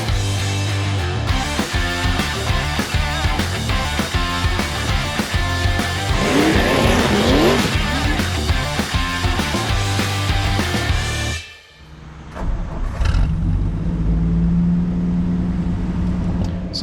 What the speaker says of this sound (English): And that 215 six-cylinder, it fires right up.